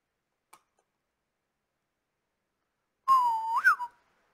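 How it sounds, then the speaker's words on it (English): After a brief click and near silence, a single short whistled tone into a microphone rises and bends in pitch, close and clear, lasting under a second. "I whistled into the mic"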